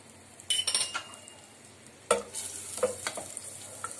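Butter sizzles and crackles softly in a hot pan for sweet corn vegetable soup, with a couple of brief clinks and a bright hiss that rises as it heats.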